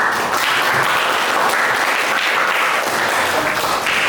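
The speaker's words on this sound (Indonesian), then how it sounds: "beri tepuk tangan untuk saya" A classroom of students applauding during a teaching session, a continuous, loud, dense clapping that keeps an even level from start to finish with no voices above it.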